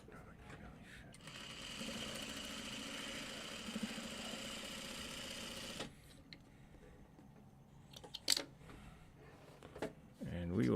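A sewing machine stitches a Farmers Wife quilt block, a steady mechanical whir running for several seconds, then stopping, followed by quieter handling noises and a brief voice near the end.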